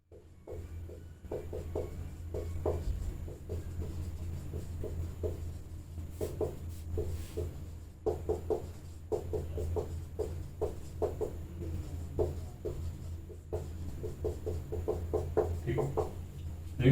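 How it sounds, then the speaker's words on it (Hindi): A hand writes notes during a history lesson, giving a steady run of soft, close scratchy strokes in quick bursts over a low constant hum. "यहाँ पे लिख देता हूँ।"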